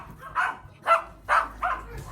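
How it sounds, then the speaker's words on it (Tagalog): A dog barks four times in quick succession, short sharp yaps at moderate distance with brief pauses between. "Ingay ng mga aso mo."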